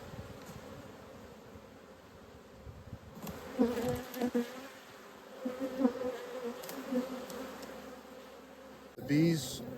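Honey bees hum steadily around double nuc hive boxes topped with a honey super. The faint, even drone carries a few louder passes and some light knocks as the boxes are handled.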